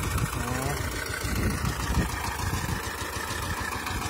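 A Kentavr walk-behind tractor engine runs while plowing mustard into a field. It gives a steady, close mechanical drone with a knocking rumble and a brief whine near the start.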